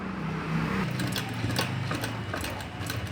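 A sewing machine runs steady tacking stitches along a folded strip of black fabric, a quick, even mechanical chatter with light clicks, close and fairly quiet, with no voice over it.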